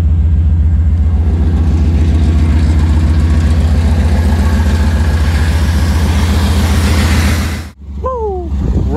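A 1991 Chevrolet Camaro RS engine idles loud and close with a steady, even rumble, then cuts out abruptly near the end, followed by a brief vocal whoop.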